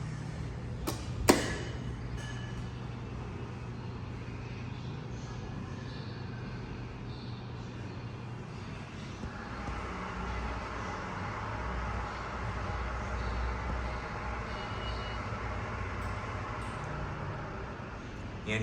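A vintage Murphy hydraulic elevator on a ride, a steady low drone and hum of the car running beneath a continuous rumble, with a sharp click near the start and a slight rise in mechanical noise partway through.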